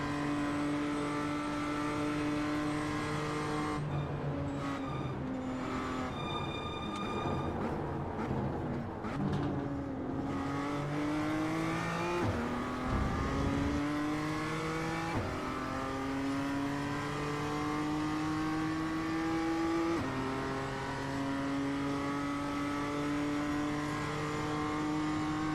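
Race car engine accelerating on a track, the pitch climbing through repeated gear changes in a loud, continuous whine with brief dips between shifts, heard from up close.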